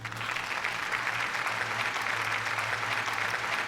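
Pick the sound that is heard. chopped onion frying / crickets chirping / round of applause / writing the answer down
round of applause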